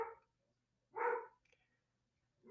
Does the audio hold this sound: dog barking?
yes